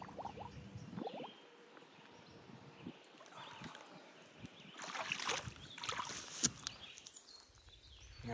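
A homemade swimming duck decoy driven by a Seaflow brand pump splashes faintly in water, soft irregular splashes and ripples over light wind, no talk.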